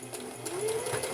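A sewing machine stitches a Halloween project in a short, close burst of fast, even mechanical whirring.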